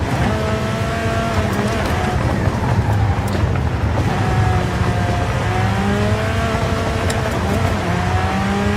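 A car engine in the racing game Forza Horizon 5 revs repeatedly while the car is driven, its pitch climbing and dropping through the gears, loud and close, with faint talk underneath.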